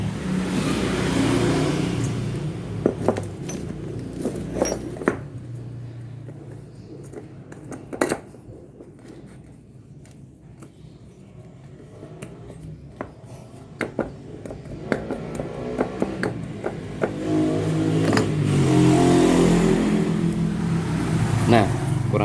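A Honda Supra 125 motorcycle engine fitted with a Kaze R piston revs loudly at high speed, eases to a low idle with clinking sounds, then climbs back up while someone talks over it.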